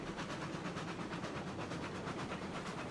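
Steam locomotive in the RailRoads Online video game chuffing in a steady, fast, even rhythm, loud and continuous with hissing steam and no voices.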